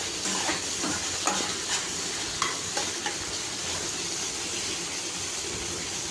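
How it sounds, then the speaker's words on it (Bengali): Beans, carrot and capsicum fry in oil in a wok, giving a steady loud sizzle with a few sharp clicks of stirring throughout, no voices over it. "বিনস, গাজর, ক্যাপসিকামটা একটু ভেজে নিচ্ছি।"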